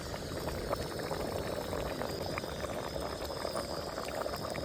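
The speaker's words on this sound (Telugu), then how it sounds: "మా మమ్మీ చికెన్ వండుతుంది ఫ్రెండ్స్." A pot of chicken curry boils steadily on the stove, a dense, continuous bubbling and simmering that stays close and even throughout with no talk.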